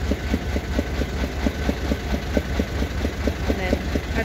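A canal narrowboat's diesel engine chugs steadily as it is put into reverse to wind the boat round, a low rhythmic throb with regular knocking pulses, close and continuous throughout.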